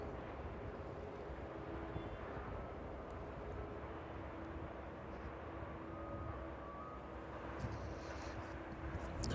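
A Ryanair jet touches down on the runway at East Midlands Airport in the evening, a faint, distant, steady roar mixed with gusty wind noise.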